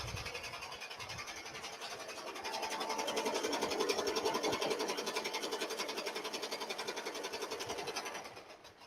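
An embroidery machine stitching a design onto a towel, with a steady, fast mechanical needle chatter that holds an even drone and rhythm throughout and cuts off near the end.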